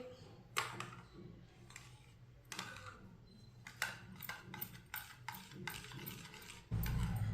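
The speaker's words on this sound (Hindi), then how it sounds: "इसे अच्छी तरह मिक्स करना है पानी डाल के।" Semolina mixed with water for suji halwa, heard as a series of irregular scraping clicks and knocks of a utensil against a bowl, close and moderately loud, with no voices.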